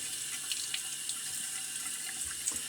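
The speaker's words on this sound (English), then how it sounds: "And get a quick rinse." A double-edged safety razor rinsed under a running tap: a steady stream of sink water with small splashes and clicks as the blade moves through the flow, close by and fairly quiet.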